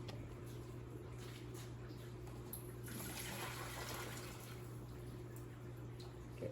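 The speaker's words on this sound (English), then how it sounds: "So then I'm going to turn off the water heat and ready, and then this is the drain." Cooking water draining from a pot of cooked green beans, a steady continuous rush and splatter of liquid at close range, with a constant low hum underneath and no talking.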